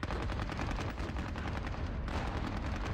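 Continuous gunfire from the Squad Battles Red Victory war game at Ponyri, dense rapid shots and bursts rattling without pause over a dull rumble, loud and close throughout.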